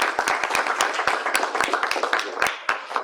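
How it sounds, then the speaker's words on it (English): An audience applauds a presenter at an academic conference session: dense, brisk clapping from a room of people, close and steady throughout the short burst. "So a round of applause for..."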